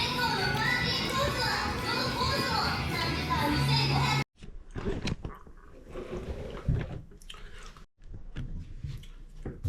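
Chewing and eating food at close range, soft irregular bites and mouth sounds after a burst of loud children's play and chatter, with occasional thumps and clatter nearby.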